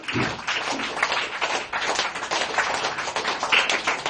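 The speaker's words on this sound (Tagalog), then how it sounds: "Mararamdaman ng Diyos yung mga palakpak" Members of a church congregation clap through a worship service, a continuous fairly faint wash of many hands with a few sharper claps sticking out, kept up evenly the whole time.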